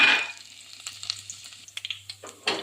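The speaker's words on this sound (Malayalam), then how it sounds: "വെളിച്ചെണ്ണ ഒഴിച്ച് എണ്ണ ചൂടായി കടുക് വെക്കുമ്പോൾ ഉള്ളി ചേർത്ത് കൊടുക്കാം" Mustard seeds and onion frying in hot coconut oil in a pan, a soft sizzle with scattered crackles and pops and a louder burst near the end, with no talking.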